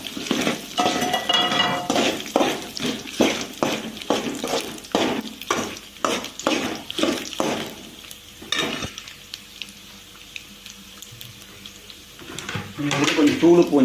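Peanuts and lentils are roasted and stirred in a pan for lemon rice: a quick run of rhythmic spoon scrapes and clinks over a sizzle, then a quieter stretch and a brief voice near the end.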